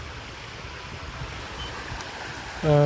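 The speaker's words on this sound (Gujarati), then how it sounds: "તો કંઈક આવી રીતના પાણીની બગડાટી બોલાવી દીધી" Water gushes from a borewell pump motor to irrigate farmland, making a steady broadband rush. Near the end a brief tonal voice or hum cuts in.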